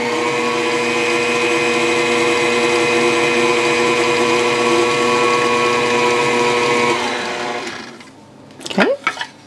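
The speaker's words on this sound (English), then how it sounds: "then you can speed up the mixer" Electric stand mixer beating apple coffee cake batter, a loud steady whir holding for about seven seconds before winding down, followed by a few clunks and handling sounds.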